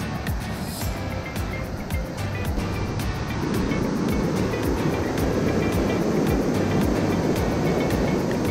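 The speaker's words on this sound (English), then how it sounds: "Here you can see this is a Thara waterfall" The Thara waterfall on the Annapurna Base Camp trek gives a steady broadband rush of falling water that swells louder and fuller partway through and continues without a break.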